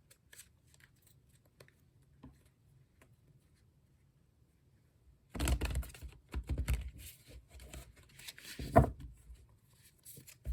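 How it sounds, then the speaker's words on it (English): Tarot cards are shuffled up close, a papery riffling and rustling that starts halfway through after near-silence and comes in uneven bursts with one sharper snap. "Let's do some shuffling."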